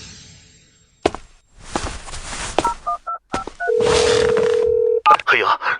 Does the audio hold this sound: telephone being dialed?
yes